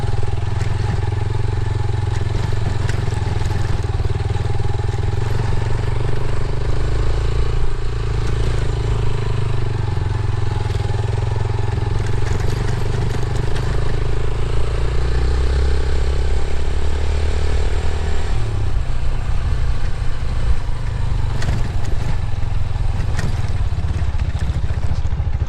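A motorcycle ridden over a rough, worsening road, with a continuous loud engine drone, wind and rattling clatter throughout, close up with no talk.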